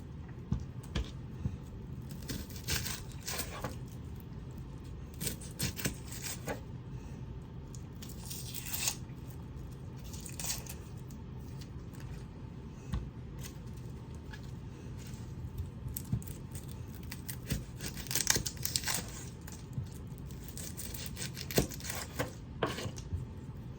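Papery outer skin being peeled off an onion by hand in a kitchen, with soft crackling, tearing and crunching sounds in irregular bursts, close and fairly quiet.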